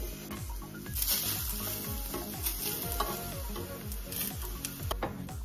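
Eggplant slices sizzle and hiss steadily in a hot frying pan while being turned, with a continuous close frying crackle, a low repeating rhythmic hum underneath, and no talking.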